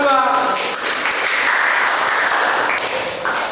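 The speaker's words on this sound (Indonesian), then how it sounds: "Tepuk tangan untuk kelompok" Students in a classroom clap for a presenting group, a short, fairly loud burst of scattered clapping with voices mixed in.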